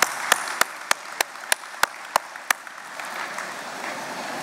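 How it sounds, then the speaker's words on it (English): Small audience at an MEC annual meeting applauding, sharp separate claps in a steady rhythm that thin out into a faint murmur of the room. "Give yourself a round of applause for being here"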